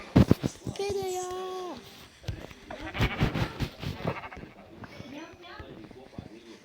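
A single sheep bleats briefly in Minecraft, a short wavering call near the start, followed by talking in the background.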